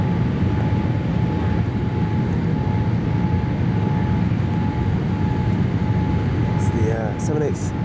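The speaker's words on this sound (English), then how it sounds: "Qatar Airways is coming to land into Singapore." A Qatar Airways Boeing 787-8 Dreamliner coming in to land at Singapore, heard from inside the cabin as a loud, steady engine and airflow roar that holds throughout, with a faint chime-like tone near the end.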